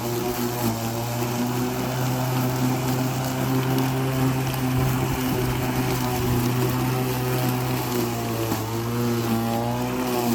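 A Litheli 18-inch 2x20V electric lawn mower runs steadily in high gear, its motor a loud, constant tonal whine with a slight dip partway through, close and without talk.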